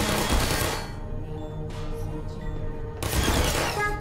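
Rapid automated turret gunfire from the video game Portal, loud bursts of fire at the start and again near the end with a quieter stretch between, no voices.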